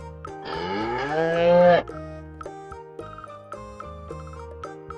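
A cow gives one loud, close, drawn-out moo that rises in pitch, then stops, leaving soft tinkling bell-like tones behind.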